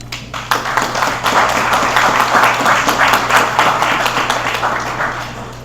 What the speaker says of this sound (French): On nous applaudit plus fort